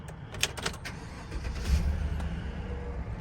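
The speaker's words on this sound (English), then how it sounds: "just so I can crank the truck up for you" A 2015 Chevrolet Silverado 1500 regular-cab short-bed truck with a 5.3 V8 engine and 2WD is started up. A few sharp clicks come first, then the engine catches and settles into a low, steady idle rumble close by.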